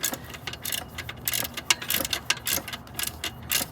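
A 15 mm socket on a ratchet wrench backs out a bolt during alternator work on a Toyota Corolla 1.8 L, giving a close run of quick, fairly even ratcheting clicks with no talk.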